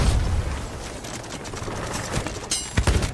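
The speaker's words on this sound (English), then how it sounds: "Get on the cannons!" Booming ship cannon blasts and bursts of gunfire in a noisy, chaotic Sea of Thieves video game battle, several shots spread unevenly with a few sharp cracks near the end.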